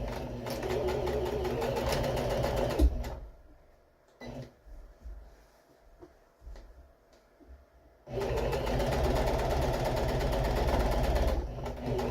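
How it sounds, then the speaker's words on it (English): A sewing machine stitches couch cushion fabric half an inch from the edge, running in a steady close whirring hum, stopping for a few seconds of quiet with soft handling noises, then starting again. "I'm stitching in about a 1/2 inch from the edge here."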